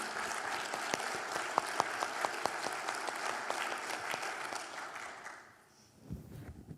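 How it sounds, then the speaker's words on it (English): An audience applauds after a lecture on women in the US Army Air Corps, steady dense clapping with a few sharper individual claps standing out, dying away near the end before a brief low thump. "let's give a round of applause"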